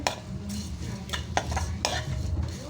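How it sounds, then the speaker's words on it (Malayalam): A utensil stirs tomatoes sautéing with salt in a pan, giving a few scraping strokes over a soft, steady sizzle, close and fairly loud with no talking. "ഉപ്പ് ഇട്ടിട്ട് കുറച്ച് ഇളക്കിയിട്ട്"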